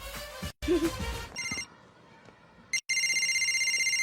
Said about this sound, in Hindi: उठा ले बेटा, तेरी मम्मी का ही फोन होगा।